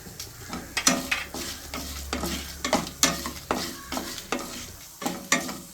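Chana dal frying in a pan with black pepper, dried red chillies and curry leaves, stirred in a steady rhythm of repeated scraping strokes over a continuous sizzle, close and fairly loud, no voices.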